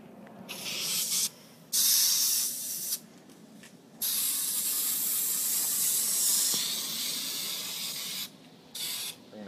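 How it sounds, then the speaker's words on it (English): Spray glue hisses from an aerosol can onto a sofa cushion being restuffed with new foam and Dacron wrap, coming in several sustained close bursts with short pauses between them. "Spray glue."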